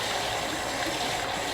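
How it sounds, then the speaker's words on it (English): Shaving brush being rinsed out under running water, a steady gushing stream with no breaks, close and moderately loud with no talking. "So, what you do, you rinse out your brush"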